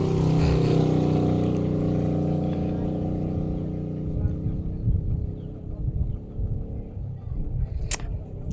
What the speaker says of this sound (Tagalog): ang daming mga motorsiklo na dumadaan guys